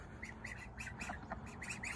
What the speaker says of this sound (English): I heard some ducks.